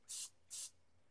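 Cooking spray hissed onto raw chicken drumsticks in a home kitchen, two short, close bursts of spray separated by a brief pause.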